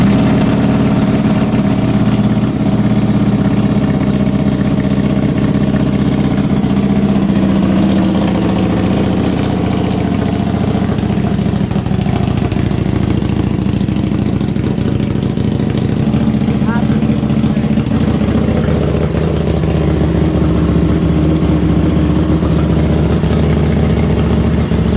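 A 2024 Buell Hammerhead motorcycle engine runs loud and close in a shop, settling into a steady, throbbing idle with occasional blips of revving throughout.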